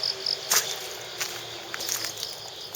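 Crickets chirp steadily in an old Japanese cemetery, a faint, continuous high insect trill with a few brief brighter chirps over quiet outdoor ambience.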